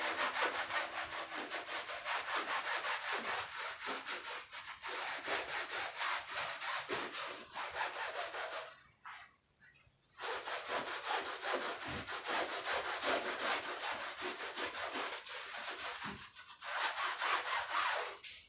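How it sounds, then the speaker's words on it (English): Steady back-and-forth scrubbing with a soapy brush or sponge on an item during household cleaning, loud and continuous with a short pause midway, then resuming in rapid strokes. "I need to put some more soap on here to scrub this thing with."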